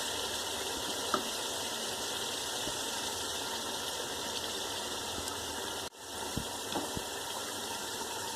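Fish pieces frying in a masala curry give a steady, even hiss with a few soft clicks and one brief drop, heard close and moderately quiet without any speech.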